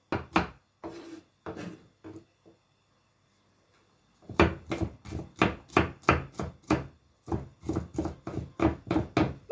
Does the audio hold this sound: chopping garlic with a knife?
yes